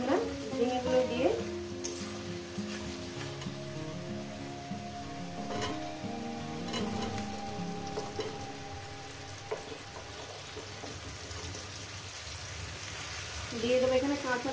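Sliced ridge gourd sizzling and frying in a pan with turmeric, steady crackling sizzle throughout, with occasional stirring and a few brief bits of talk at the start and end.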